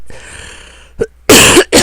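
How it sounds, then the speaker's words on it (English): One person coughs several times in close succession, loud and near, with a faint throat sound before the harsh bursts. "excuse me, I have to cough"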